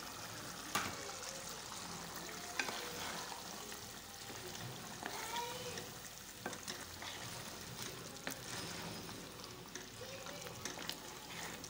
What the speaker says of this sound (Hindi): गोश्त डाल के ना भूनते हैं